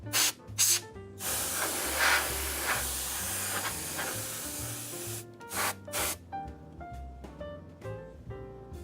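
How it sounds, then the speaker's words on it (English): Compressed air blasts dust from inside a home fan unit in short hissing bursts and one longer sustained spray, loud and close, with background music playing throughout. "I'm going to use some compressed air here and just blow some of the bigger dust bunnies and stuff like that I'm seeing in the unit itself"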